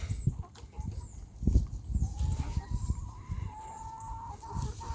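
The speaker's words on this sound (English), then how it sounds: "here we are at the elusive chicken coop" Chickens in a backyard chicken coop, clucking nearby in short irregular bursts, with a longer drawn-out call partway through and light rustling underneath.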